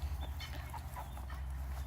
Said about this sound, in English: that's where all the chickens and such live